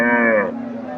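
A cow at the Chandaikona cattle market in Bangladesh lets out one loud, close moo that breaks off after half a second, leaving a low murmur of market crowd.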